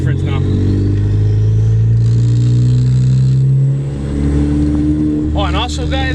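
A car fitted with a methanol injection kit spraying from 5 to 20 psi, with an exhaust leak at the downpipe flange, drones steadily under a constant engine hum with a brief dip in the middle and some rustling near the end.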